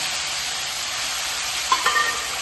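Boiled potatoes and papaya fry in hot oil with a loud, steady sizzle, close up and continuous, with a few brief scrapes of stirring near the end.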